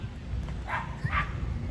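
Two short barks from a dog somewhere in Mexico, close together and moderately loud, over a low rumbling background.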